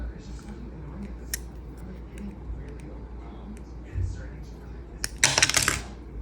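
Plastic piece of a PS5 controller remap kit being snipped off with scissors: a few sharp clicks and a louder final crunchy cut near the end, with a person talking quietly around it.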